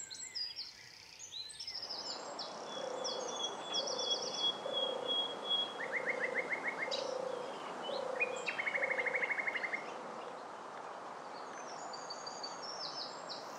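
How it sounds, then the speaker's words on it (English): Spring birdsong at Knepp Wildland, West Sussex: a mix of chirps and trilled calls from several birds at varying distances, with repeated rapid trills standing out over a soft, continuous outdoor background. "Spring at Knepp is just an amazing surround sound experience of beautiful birdsong."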